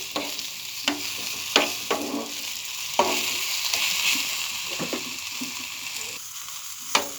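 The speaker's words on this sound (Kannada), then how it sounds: "ಇದು ಸ್ವಲ್ಪ ಬ್ರೌನ್ ಬರೋ ತನಕ ಹುರ್ಕೋಬೇಕು." Tomato chutney frying in a pan on a gas stove, a steady soft sizzle with irregular scraping clicks of stirring.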